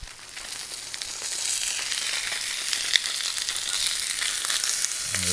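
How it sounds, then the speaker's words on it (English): Steady, bright sizzling of salmon belly frying in a hot pan, a continuous crackle with occasional pops, close and fairly loud, no talking. "That's sizzling real nicely."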